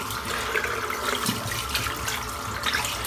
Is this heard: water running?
yes